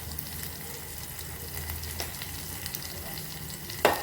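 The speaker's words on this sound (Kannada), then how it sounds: "ಈಗೆಲ್ಲ ಮಸಾಲೆ ಐಟಮ್ ಫ್ರೈ ಆಗ್ಬಿಟ್ಟು ನೋಡ್ರಿ" Masala spices with turmeric and sambar powder fry in oil, a soft steady sizzle with faint stirring scrapes and a brief clink near the end.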